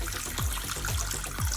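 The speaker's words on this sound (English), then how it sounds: "Hopefully the water sound is not too much for this video." Warm water pours steadily into a plugged sink, a continuous close trickling splash with small gurgling bubbles surfacing every half second or so.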